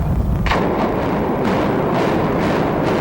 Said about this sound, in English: carefully placed dynamite turned a 12-story hotel into a pile of rubble